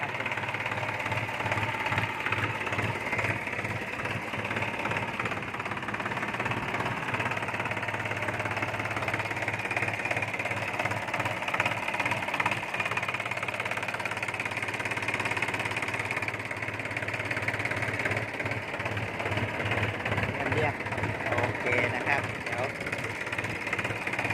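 A New Holland TT3.50 tractor with a three-cylinder engine runs steadily at idle, a throbbing mid-pitched chug with a rhythmic knock, close and continuous, while someone talks over it.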